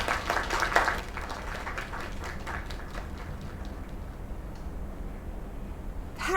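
Applause in the video game Lake, a small group clapping in a quick patter that tapers off over a few seconds, fairly close, with faint background ambience.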